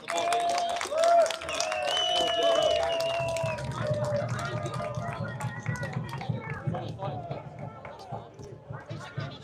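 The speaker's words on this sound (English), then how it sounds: "Please put one more loud round of applause together for our Brian Clare." A protest crowd in Manchester's Piccadilly Gardens applauds outdoors, a loose patter of clapping that swells briefly and then thins out, with voices and a ringing tone over it.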